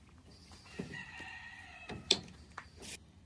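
A rooster being held for decombing gives a few short clucks and squawky notes at close range, fairly quiet against background handling noise.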